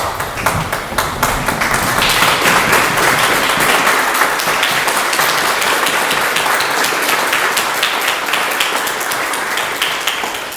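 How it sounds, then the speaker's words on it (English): A standing audience at a candidates forum gives the mayor a loud, steady round of applause, dense crisp clapping sustained throughout with individual claps standing out near the mic. "I want to ask everyone if you would stand and give Mayor Matheny a round of applause."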